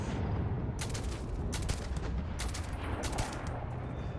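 Gunfire in the space video game Starfield: rapid bursts of shots repeat over a dense, steady rumble of combat noise, loud and close throughout.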